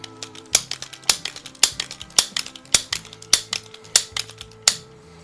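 A Crosman 106 multi-pump .22 caliber pellet pistol is pumped in a steady, even rhythm, about ten crisp clacking strokes close by, each a sharp snap with a short rattle, over faint low background hum.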